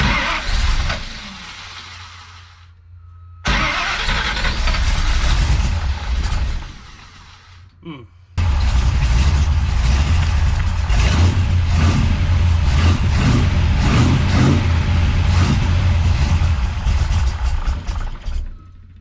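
A big-block Chevy with a big cam runs loud and close with a rough idle, cutting out and restarting in bursts before settling into a sustained lumpy, uneven rumble.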